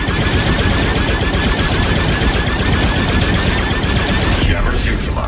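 Turret gunfire in Star Wars Outlaws: loud, continuous rapid-fire blasting that hammers on without a break, close and dense, with voices faintly underneath.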